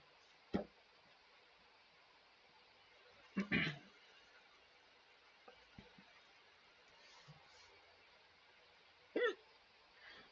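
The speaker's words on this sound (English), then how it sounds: "Sorry for the hiccups." Several isolated hiccups, about four sharp bursts spaced irregularly several seconds apart, close to the microphone against a quiet, faintly hissing background.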